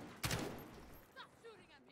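A single loud burst of video game gunfire near the start, a sharp crack that tails off, followed by fainter whistling and chirping game effects.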